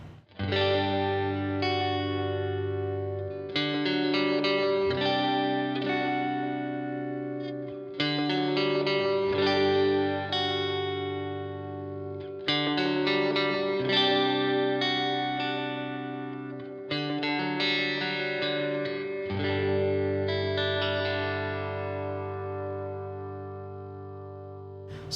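Clean electric guitar fitted with Elixir Optiweb strings, played through the neck pickup with chorus-like effects: sustained strummed chords and ringing arpeggios, close and steady, with no talking.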